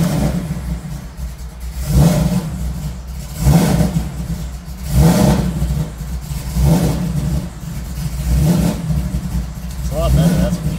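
A Ford Shelby GT500 engine runs after a cold start on a new tune, rising and falling in a series of roughly even revs every second and a half, loud and close, with a voice heard briefly near the end.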